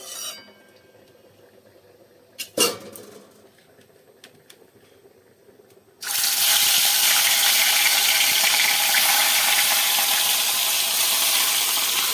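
Rohu fish pieces drop into hot oil after a few quiet clatters, setting off a sudden loud, steady, close frying roar that lasts to the end.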